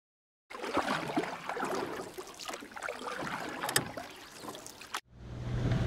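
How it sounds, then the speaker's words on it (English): Boats at a busy Manly Boat Harbour, heard as a steady wash of water and engine noise close by, with gusts of wind on the microphone, before the sound cuts off briefly near the end. "A busy time at Manly Boat Harbour."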